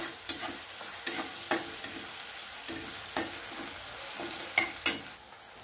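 Chopped onions stirred and fried in a hot pan for a brinjal and dried shrimp bhaji: a steady soft sizzle broken by repeated sharp spatula scrapes and knocks, close up, with no voices.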